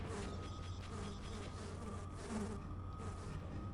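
Bees buzzing in the video game Half-Life, a steady continuous droning hum that stays even and close throughout, with no talking.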